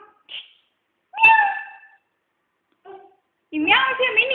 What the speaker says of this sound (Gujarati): ઈ મ્યાઉ છે